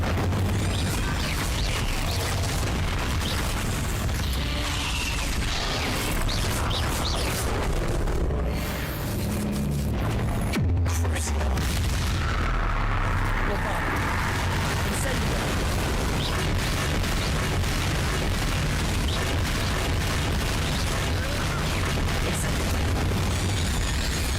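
The Incendio fire spell cast in the video game Hogwarts Legacy, a dense, continuous roar of booming, crackling blasts and bursts filling the whole stretch, loud and close, with spoken voices mixed underneath.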